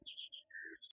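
A pigeon house gives one close, short burst of high chirping bird calls with brief tonal notes lasting about a second, with no one speaking.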